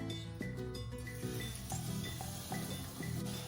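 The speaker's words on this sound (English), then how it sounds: "Breaded, I'm adding that into the oil." Breaded chicken milanesa fries in a pan of hot oil, giving a close, steady sizzle. Faint clinks of utensils sound over it along with a soft tonal hum in the background.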